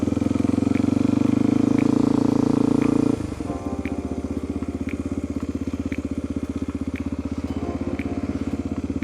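A 2001 Suzuki DRZ250 single-cylinder motorcycle runs loudly at first with a steady raspy drone, then drops to a lower, choppy idle with rhythmic pulsing close by.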